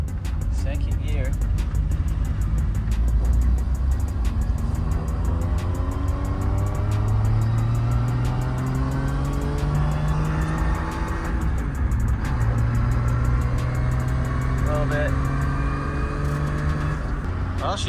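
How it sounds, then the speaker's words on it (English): A car with a swapped 1JZ engine drives and shifts through its gears, the engine note climbing and dropping repeatedly with a steady road rumble beneath, while people talk over it. "Well, she shifts in all the gears."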